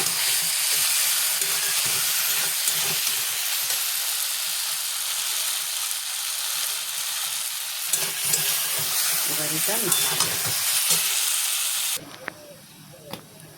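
Vegetable curry simmering and frying in a pan as its liquid cooks down, a steady close sizzle and hiss running throughout, with stirring scrapes near the end before the sizzle drops off sharply.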